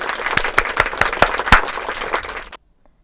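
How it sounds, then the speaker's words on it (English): A round of applause from a small crowd during a Christmas special news broadcast, with distinct individual claps at close range, steady for a couple of seconds before cutting off into silence. "They also deserve a round of applause."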